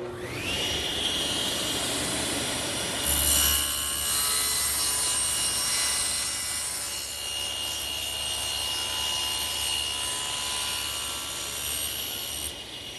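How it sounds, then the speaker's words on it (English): A power saw with its blade tilted to 45 degrees spins up to a loud, high whine, then bites into wood for a long bevelled miter cut, a sustained near roar with grinding texture until it winds down. "adjust the blade to 45 degrees for the miter cuts, and then we're ready to make the pass"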